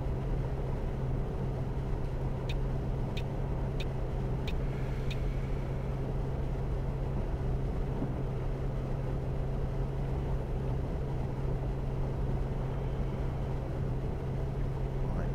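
Neoplan Skyliner coach bus in Fernbus Coach Simulator cruising downhill near the rev limiter, a loud steady engine drone with a constant low hum throughout, plus a brief run of faint ticking clicks early on.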